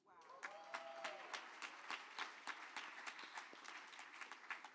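Sustained applause from a church congregation fills the space, a dense patter of many hands clapping continuously after a brief voice at the start, heard at a fairly quiet level.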